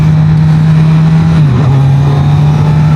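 A 2025 Kawasaki Z900 motorcycle pulling through town, its engine droning steadily up close, with a brief dip and recovery in pitch as the quick shifter snaps through a gear change mid-acceleration.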